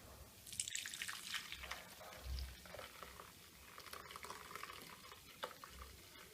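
Water being poured and drained off soaked maida flour in a kitchen while making papad, a steady trickling, dripping flow with some stirring and sloshing, close and fairly quiet.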